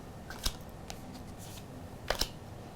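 Tarot cards are shuffled in a quiet room, giving soft, faint riffling with two sharper snaps from the deck, one early and one near the end.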